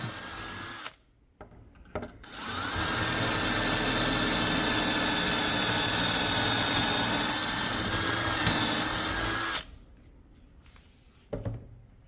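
Power drill boring pocket holes in wood for a desk skirt, a loud sustained high whine for about seven seconds between brief spin-ups and quiet handling sounds.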